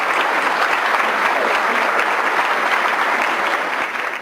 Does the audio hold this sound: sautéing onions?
no